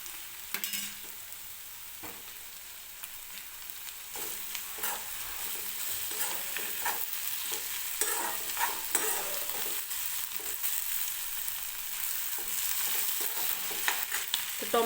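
Tomatoes softening as they fry in oil in a wok, a steady soft sizzle with scraping stirs from a spatula breaking through at irregular moments, close and alone with no voices.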